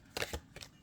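A new, never-shuffled tarot deck gives a few quick, crisp papery riffles in short bursts, close by and fairly quiet, with brief pauses between them.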